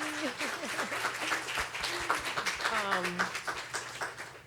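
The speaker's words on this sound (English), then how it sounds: "Can we give them a round of applause?" An audience at a public safety symposium breaks into applause, a steady wash of clapping with people talking and cheering over it.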